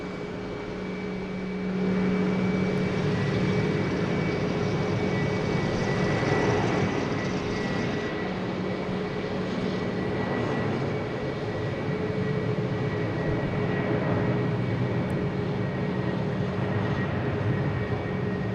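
An Air France airliner landing at Logan Airport after a nine-hour flight, with a steady, broad engine roar that holds loud and close for the whole stretch.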